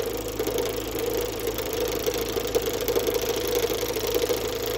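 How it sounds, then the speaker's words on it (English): A lathe running steadily while a Sorby RS 3000 texturing cutter is slowly advanced into the spinning workpiece, giving a continuous mid-pitched motor drone with a faint rattling buzz, close and even, with no talk. "I'm slowly advancing the cutter into the work with the bottom adjustment wheel."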